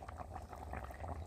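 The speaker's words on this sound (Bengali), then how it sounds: "চলো দেখো আমার ঝোল ফুটে গেছে আর আলুও সেদ্ধ হয়ে গেছে।" Curry broth with potatoes boiling in a pot, a soft continuous bubbling and gentle liquid churn heard close and quiet, with no talking.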